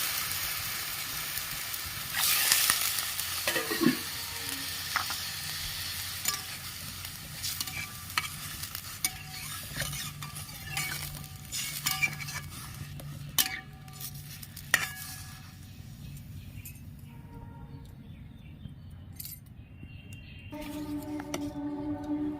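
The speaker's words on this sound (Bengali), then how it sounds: "আমি ভাজবো না সামান্য একটু নেড়ে ছেড়ে নিলাম" Chicken pieces stirred in a pot for homemade chicken soup, with steady soft scraping and sizzling throughout and a few sharper utensil knocks against the pot, close and moderately loud.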